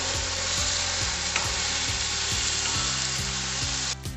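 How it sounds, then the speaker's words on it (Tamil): Okra and tomato gravy with turmeric, coriander and chili powders sizzles steadily in a pan, with a spoon stirring and scraping in a regular rhythm, loud and close, no talking. "இதெல்லாம் சேர்ந்து நல்லா கலந்து விட்டுருந்தோம்"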